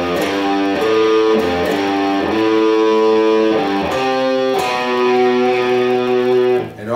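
Electric guitar with light distortion plays the second part of a riff, a loud sequence of chugging chord hits and held notes that repeats its pattern over about seven seconds.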